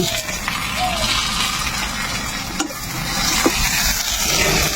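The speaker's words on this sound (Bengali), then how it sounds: "এখন আমি পেঁয়াজের ভিতরে মশলা দিয়ে দিব এসে প্রথমে গরম মশলা তেজপাতা এসব দিয়ে দিব" Browned onions frying in oil with whole garam masala and bay leaves, a loud, dense, steady sizzle with a few faint knocks of stirring, while people talk faintly underneath.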